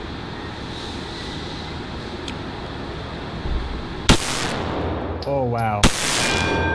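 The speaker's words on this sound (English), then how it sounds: "let's see if we can shoot that yellow circle in the very center and see if we can do a better job with it" Several sharp, loud gunshots from a Beretta 92FS 9mm pistol fired at a target outdoors, spaced apart over steady wind noise, with a brief exclamation from a voice in between.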